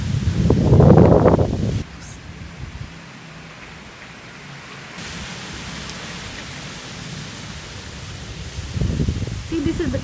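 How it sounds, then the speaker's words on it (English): Strong wind blowing through bamboo trees makes a steady rushing noise, with louder gusts at the start and near the end. "Look at how strong the wind is."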